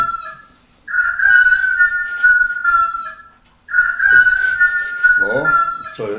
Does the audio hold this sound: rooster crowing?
yes